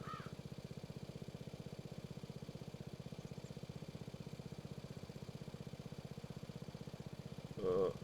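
A lawnmower engine in Farming Simulator 22 strains while towing a heavy trailer, giving a steady, loud, rapidly pulsing drone that runs unbroken throughout, with a brief louder burst near the end.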